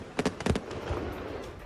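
Fireworks stored on a truck going off at a celebration: a quick cluster of sharp bangs and cracks at the start, then scattered fainter pops and crackles trailing off.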